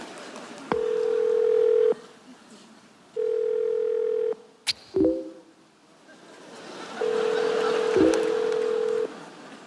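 Three long, steady telephone tones during a phone call, each over a second long with pauses between, loud and close, plus a couple of clicks and handling noises in the gaps.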